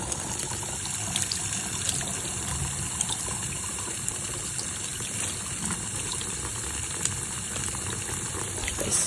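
Water runs steadily from a tap over the fabric of women's outdoor adventure pants, a constant splashing gush that stays even throughout without talk.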